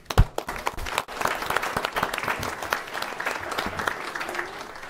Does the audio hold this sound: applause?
yes